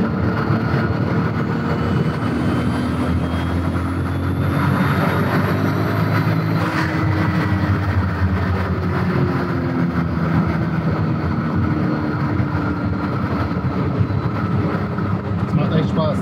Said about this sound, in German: Aber wir können noch ein bisschen Gas geben, ohne zu schalten.